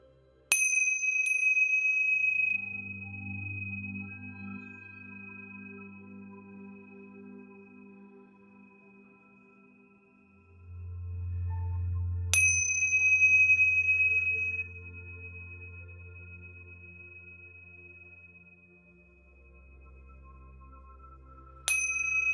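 Tingsha bells struck for clearing, giving a bright, high-pitched ding about three times, spaced far apart, each ringing out in a long shimmering decay over a faint low hum.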